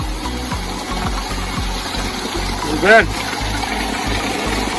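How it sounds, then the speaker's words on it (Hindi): A motor-driven water pump in a Pakistani village chugs steadily nearby with a low, regular thumping pulse, and a voice briefly rises above it. "ये भी मोटर चलाएंगे।"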